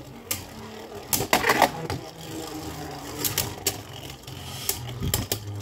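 Beyblade Burst tops Flame Pandora and Bolt Spryzen clashing in a plastic stadium, with sharp clicking knocks and rattling collisions in irregular bursts over a steady whirring spin.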